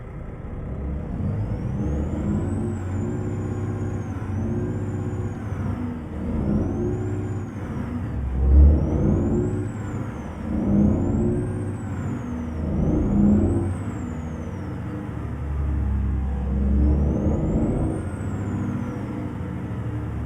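International 9800 cab-over truck engine in American Truck Simulator, a loud, close diesel drone with repeated rises and falls in revs, as if shifting manually, with a thin whine riding above throughout.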